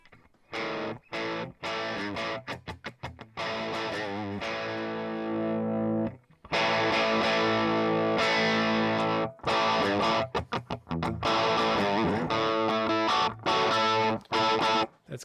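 Heavily distorted electric guitar played through an Axe FX 3 amp modeler, aiming for a throaty rock tone. It plays loud, choppy chord stabs and sustained chords, broken by short gaps, with no talking.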